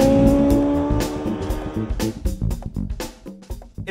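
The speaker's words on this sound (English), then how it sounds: "the real thing that sets this bike aside from any previous Triumph sports bike is this engine" A Triumph Daytona 600 four-cylinder 600cc sports bike engine revs hard and close, a loud, rising tone that breaks into rapid, rhythmic pulses as it runs through gears, with no voices.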